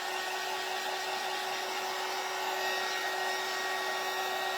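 A hair dryer runs steadily and continuously at moderate volume while drying a damp stencil transfer, with a constant whirring blow and no voices.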